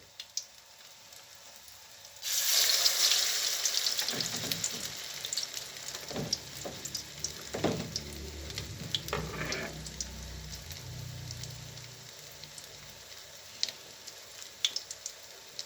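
Dough drops into hot oil with a sudden loud sizzle, then steady frying crackle continues with occasional clinks of a utensil against the pan.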